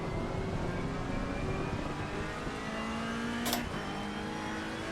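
Race car accelerating out of the last corner in a racing video game on a wet track with a full tank of fuel, a steady rising engine drone with a brief sharp burst midway.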